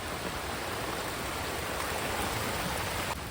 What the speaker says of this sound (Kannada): ನದಿ ನೀರೆಲ್ಲ ನಮ್ಮ ಇಲ್ಲಿ ಬಂದಿದೆ